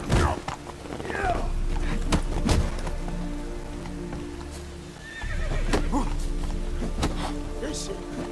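A horse in The Witcher 3 whinnies loudly while hooves clop under rainfall, with a second neigh later and battle shouts overlapping throughout.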